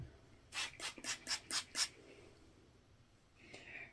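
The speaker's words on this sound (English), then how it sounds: "We're going to take some water and spray the ends and really get in there." A hand spray bottle mists water onto the ends of a hair extension install in six quick, evenly spaced spritzes, close and crisp, followed by quiet and a softer final spray.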